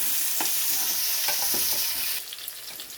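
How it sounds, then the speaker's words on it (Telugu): Onions frying with garlic in a hot pan give a steady loud sizzle, with a few scraping stirs partway through and the sizzle softening near the end; no talking. "కొంచెం ఉల్లిగడ్డలు వేయండి. లైట్ బ్రౌన్ అయ్యేదాకా ఫ్రై చేసుకోండి."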